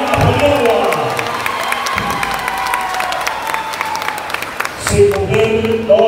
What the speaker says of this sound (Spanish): también queremos escuchar el aplauso a nuestra Miss Nicaragua.